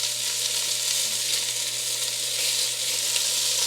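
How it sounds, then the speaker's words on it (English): Oxtail sears in hot oil in a pot for Roman-style braised oxtail, giving a steady, loud, close sizzle and crackle that runs unbroken throughout with no voices. "I'm just going to turn it on the side so that it gets seared on the sides as well."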